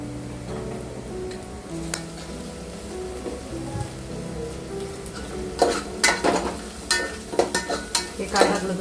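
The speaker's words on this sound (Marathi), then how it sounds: "कांदा चांगला परतून घ्यायचा" Chopped onion softening in a pan with a little salt and asafoetida, giving a steady close sizzle with repeated scraping and clinking of a spoon against the pan, which grows busier toward the end.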